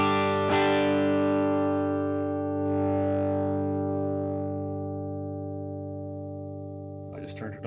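A sustained electric guitar chord rings out through an overdrive pedal's gain stages, thick and distorted, close and loud, slowly decaying over several seconds before a short burst of new picking at the end.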